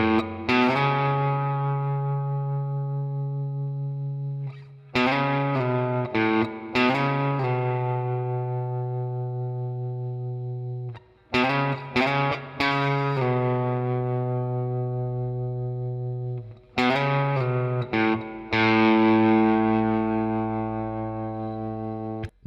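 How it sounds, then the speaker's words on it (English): Intro riff of a song on electric guitar with no capo, slow phrases of picked notes and slides ringing out with long sustain and slight distortion, several groups separated by brief gaps, close and clear with no voice. "And in total, the intro riff sounds like this."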